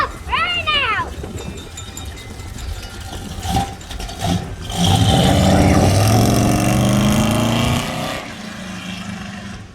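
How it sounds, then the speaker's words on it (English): A car revving hard in a burnout near a shop, engine roar swelling mid-clip and holding loud for several seconds under a steady drone, after voices shouting encouragement at the start. "Do a burnout!"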